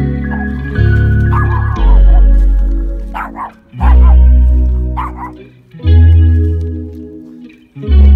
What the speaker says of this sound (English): She had become the neighborhood menace, barking at everyone and everything that got in her way.